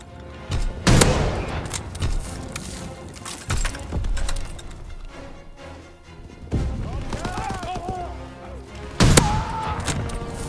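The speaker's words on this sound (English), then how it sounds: "Fighter aircraft ready for strafing run." Gunfire and heavy thuds from a fighter aircraft strafing run in a video game, with loud bursts near the start and end, a mid-level clatter between them and some voice-like tones over the mix.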